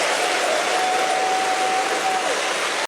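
A large political rally audience applauds, a dense steady wash of clapping that holds at even loudness throughout, with a faint thin tone running under it.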